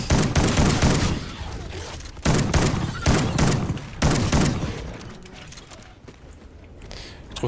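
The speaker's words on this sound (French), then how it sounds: "Je trouve pas très efficace ce fusil à pompe et il a très peu de munitions." Shotgun blasts from the video game Call of Duty: Ghosts Extinction on Xbox 360: several loud, sharp shots, spaced about a second apart, with quieter clatter trailing off between them.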